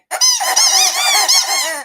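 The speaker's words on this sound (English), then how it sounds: "We got the triple squeaky for Danny D." A triple squeak toy gives a loud, close, continuous rubbery squeal with a few short dips in pitch, heard alone.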